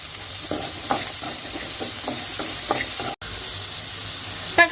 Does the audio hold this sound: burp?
no